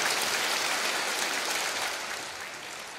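A wave of applause fills the Great Hall of the People in Beijing at the opening of the 20th Chinese Communist Party Congress, a dense, rain-like roar of many hands that fades slightly toward the end.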